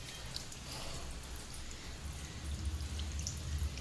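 Water gushes steadily out of a light fitting inside a house in summer, a continuous close rushing flow that swells slightly louder toward the end.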